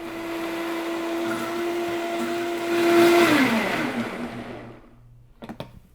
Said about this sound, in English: And now, ready to blend.